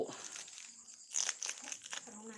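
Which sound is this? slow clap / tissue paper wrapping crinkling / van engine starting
tissue paper wrapping crinkling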